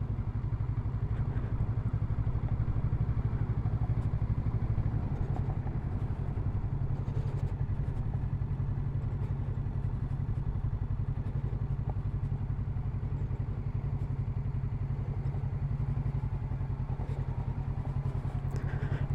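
Motorcycle riding on gravel: a steady engine drone with a rough, clattering texture, close and continuous throughout, with no talking.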